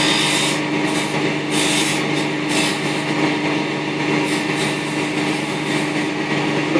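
Sandpaper rubs against a wooden snowman ornament spinning on a lathe, a steady close abrasive hiss over the motor's constant hum, with slight rhythmic surges as the paper is pressed.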